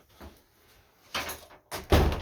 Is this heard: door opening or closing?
yes